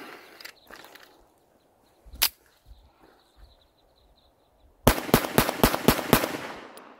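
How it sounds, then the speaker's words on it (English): Sig Sauer P938 pistol fired in a rapid mag dump: six sharp, loud shots in quick succession near the end, after a few scattered isolated bangs and quiet pauses outdoors. "let's do a pretty quick mag dump with this, and let's see how accurate we can be with that."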